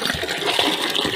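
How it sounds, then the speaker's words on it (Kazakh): Water from a hose gushes steadily into a bucket in a cattle yard, a loud, close, continuous splashing pour with no voices. "Мына шелекке ағызып жатырмыз."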